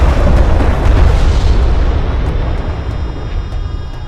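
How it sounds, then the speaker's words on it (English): Airstrike explosions in the real-time strategy game Homeworld: Deserts of Kharak, a loud, heavy rumbling blast that fills the sound and slowly fades, with faint sharp ticks in the tail. "Enemy airstrike inbound."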